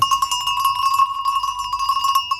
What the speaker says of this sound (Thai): อีกทีนึงกระดิ่งวัว